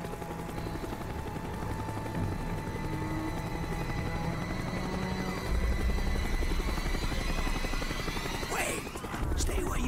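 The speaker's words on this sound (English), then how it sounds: "The chopper is coming around again." A helicopter circles overhead in the video game Call of Duty Black Ops. Its rotor throbs as a loud, continuous drone that stays steady throughout, with a few sharp clatters near the end.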